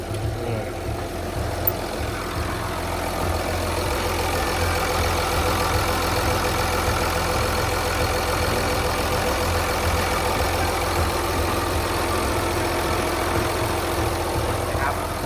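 A Komatsu WA380-6 wheel loader's diesel engine idles with a steady, even rumble and chugging throb, close by and continuous, with faint voices now and then.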